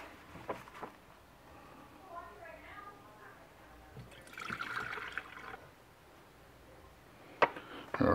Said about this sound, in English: I'm gonna pour all this through here, separate the fat out of here,